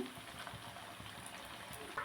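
Semolina chitrakut sweets frying in hot oil, a soft steady bubbling and sizzle with faint crackles, fairly quiet and continuous, with no voices.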